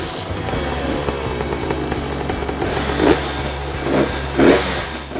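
A 125cc two-stroke dirt bike engine runs in a steady loud idle, then gives three sharp revs near the end, each rising and falling quickly with a buzzy, raspy tone.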